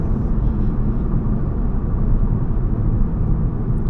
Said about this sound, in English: Hear the nice turbo sounds of the car.